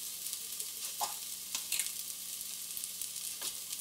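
Ginger paste sizzling and crackling in a frying pan of hot oil while a Bengali chital fish dumpling curry is cooked at home, with soft steady frying hiss and a few brief stirring scrapes, fairly faint.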